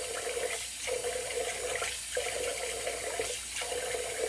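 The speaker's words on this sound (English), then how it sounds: "Get rid of some of this hairy water" A tap runs steadily into a sink, rinsing after a wet shave, a constant full splashing rush of water with slight surges, close and fairly loud.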